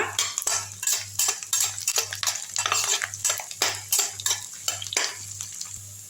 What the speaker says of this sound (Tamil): இந்த பூண்டு எடுத்து போட்டுக்கலாம். லேசாக வதக்கி விட்டுக்குங்க.